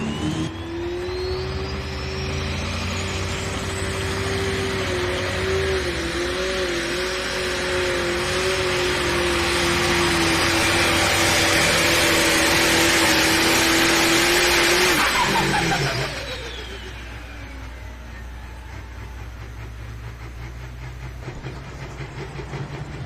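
Pulling truck Warpath roaring down the track on a pull run at a truck and tractor pulling event, a loud sustained high-revving engine note for about fifteen seconds before it abruptly drops off and fades.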